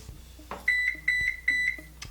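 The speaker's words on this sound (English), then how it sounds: "Beep, beep, beep." A kitchen timer beeps while oatmeal cookies are being made, giving three pairs of short, clear high-pitched beeps in an even rhythm against a quiet room.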